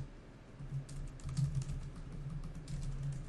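Quiet, quick tapping on a computer keyboard while entering code, a soft irregular patter of keystrokes over faint room hum, with no talking.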